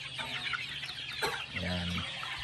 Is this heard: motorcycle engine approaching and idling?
no